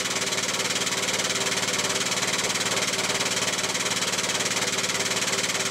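An air-powered hydraulic 8-ton long arm jack rises with a steady, loud pneumatic hum and fine rapid pulsing vibration, continuous and close throughout with no talking.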